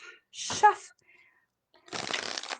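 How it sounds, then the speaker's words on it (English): A deck of oracle cards is shuffled in two quick riffling bursts, close and crisp, separated by a short pause. "All right, so one more shuffle."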